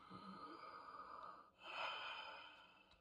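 A character in Red Dead Redemption 2 breathes deeply for a doctor's examination, one slow audible inhale then a longer airy exhale, close and quiet with no talk.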